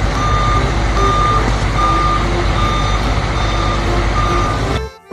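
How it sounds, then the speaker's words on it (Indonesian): Toy cement mixer truck sounding a loud electronic reversing alarm, evenly spaced beeps repeating about every second over a low mechanical hum, cutting off abruptly at the end. "di sini ada mobil truk molen"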